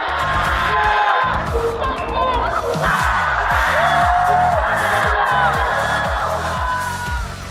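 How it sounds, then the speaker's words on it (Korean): Festival audience cheering and applauding to welcome the mayor at the opening of the 2024 Seongnam Festival, a dense, steady roar of crowd noise with whoops and shouts throughout, heard close and loud over a low musical backing. "여러분 환영의 박수 부탁드립니다"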